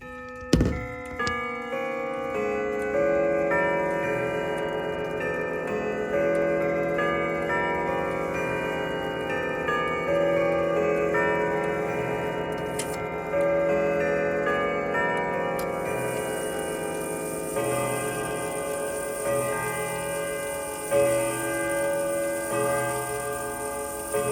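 A rare 1976 Herschede 304 Ashland triple-chime grandfather clock with a 1200 movement plays the Whittington chime on the hour, ringing sustained rod tones in a slow melodic sequence that overlap and decay, close and clear, with no voices.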